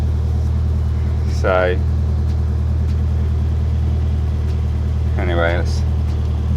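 Cold Toyota KE35 Corolla engine idling with a steady low hum and rumble throughout, while someone speaks briefly twice over it.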